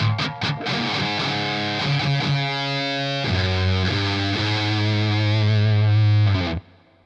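An electric guitar plays through a Jam Pedals Rattler mk.2 distortion pedal: picked notes, then sustained, heavily distorted chords ring loud and close before cutting off sharply.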